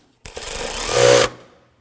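A power driver snugs down a fastener on a 2015-2020 Ford F-150 windshield washer reservoir in one loud, close whirring burst of about a second that rises in pitch, then stops abruptly.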